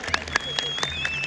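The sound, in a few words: applause for the champion team's players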